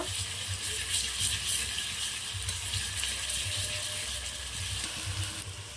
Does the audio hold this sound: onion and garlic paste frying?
yes